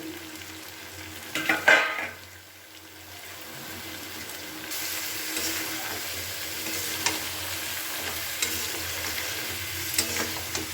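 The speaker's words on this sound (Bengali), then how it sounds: "এবার খুব ভালো করে এটা মিশিয়ে ভাজতে থাকবো বেশ কিছুক্ষণ ধরে" Tomato with salt and turmeric stirred and fried in a pan for a Bengali rui fish curry, a few scraping stirs up front, then a steady soft sizzle carrying on underneath with faint clinks.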